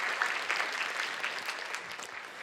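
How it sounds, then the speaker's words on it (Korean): Church congregation at a Sunday youth service giving a round of encouraging applause, a moderately loud, even patter of clapping throughout. "애써주시고 함께 해준 서로를 위해서 격려의 박수를 보내주시면 감사하겠습니다."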